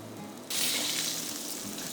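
Pork pieces for salt and pepper pork chops hit a hot pan and burst into a loud, sudden sizzle that holds steady and close for the rest of the moment, with no voices.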